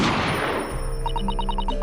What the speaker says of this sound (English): a gunshot rang out from over his shoulder.